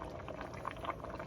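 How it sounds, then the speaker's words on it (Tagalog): Mung bean soup with shrimp bubbling in a pot, a soft, steady simmering hiss with small irregular pops, close and fairly quiet, no one talking. "Ito na yung munggo natin, kumukulo na."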